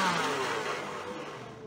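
A blender in the video game My Town runs, a steady whirring motor drone continuous for the whole moment, loud and close, with no voices over it.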